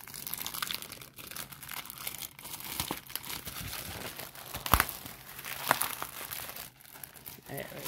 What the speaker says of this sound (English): Go, rip into it. Nothing better than to just rip it up.